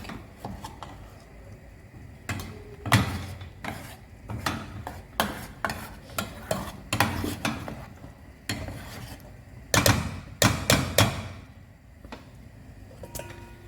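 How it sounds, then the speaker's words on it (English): A spoon scrapes and knocks through thick groundnut soup sauce in a pot, an uneven run of close clattering strokes and rubbing scrapes with brief pauses. "So we stir"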